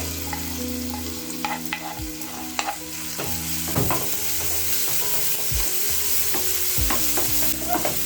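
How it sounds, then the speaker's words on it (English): Onions go into marinade in a hot frying pan, sizzling loudly and steadily while a utensil stirs and scrapes with repeated knocks, close and without talk. "So I'll start by adding my onions."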